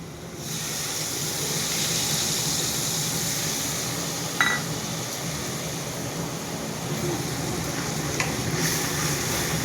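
Spice masala fries in a pan, a steady close sizzle with occasional stirring scrapes and one brief metallic clink near the middle, heard alone.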